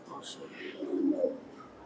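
Fancy pigeons at a pigeon farm give soft, faint coos that rise and fall behind a man's speech over a quiet background.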